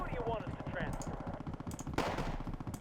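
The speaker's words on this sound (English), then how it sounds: "They're already firing." Rapid machine-gun bursts and scattered gunshots crackle through a battle in the real-time strategy game Wargame: AirLand Battle, sounding continuous and fairly quiet under game effects, with one heavier blast near the end.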